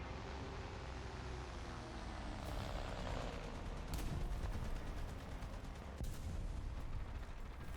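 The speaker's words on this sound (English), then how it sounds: "That was some explosion." A distant explosion rumbles in a War Thunder battle, a low, faint boom set against a steady background of engine drone and scattered sharp cracks of gunfire.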